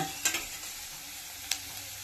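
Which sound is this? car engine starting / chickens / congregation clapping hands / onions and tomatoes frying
onions and tomatoes frying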